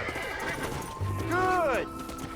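A horse in Red Dead Redemption gives one clear, descending whinny lasting about half a second, heard nearby over faint in-game ambience and hoof sounds, with voices talking around it.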